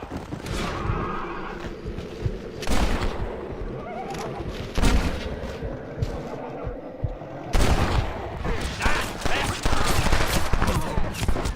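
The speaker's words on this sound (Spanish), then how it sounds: "Ojo, tiros." Loud bursts of gunfire in the video game Red Dead Redemption break out several times over a noisy background, with a horse whinnying and a voice speaking briefly.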